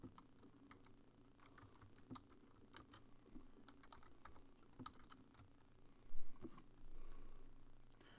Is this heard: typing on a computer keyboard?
yes